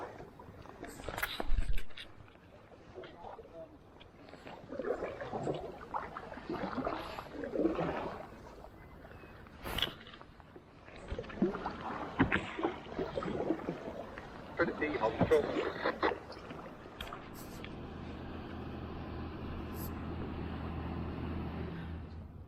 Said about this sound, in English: I'm going to paddle around towards the castle